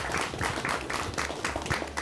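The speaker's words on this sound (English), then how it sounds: "And one more round of applause for everybody that participated in this today." Audience applause at a school quiz bowl competition, a steady wash of clapping from many people at moderate level throughout, with no talking over it.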